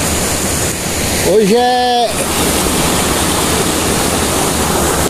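The Rio da Onça runs high in June with a loud, constant broadband rush of water. Someone briefly speaks over it near the middle.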